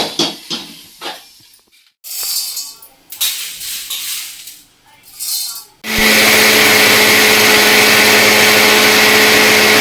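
A kitchen mixer grinder blitzes roasted sabudana: a few seconds of clattering and short bursts, then the motor roars continuously at high, steady loudness close by.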